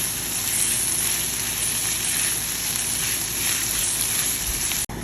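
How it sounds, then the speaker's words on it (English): Diced organic bell peppers saute in a hot pan, giving a steady, close sizzle with a bright hiss and faint crackle that barely changes throughout, ending in a brief clunk. "now I'm adding bell peppers, and I'm going to saute them"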